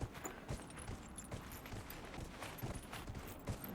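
Horse hooves clip-clop steadily in Dragon Age: Inquisition, a large, powerful mount moving at a walking rhythm, fairly faint and mixed with game ambience, with no one talking.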